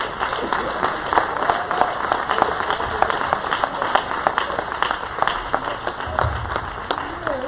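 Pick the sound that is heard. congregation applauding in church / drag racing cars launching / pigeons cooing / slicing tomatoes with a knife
congregation applauding in church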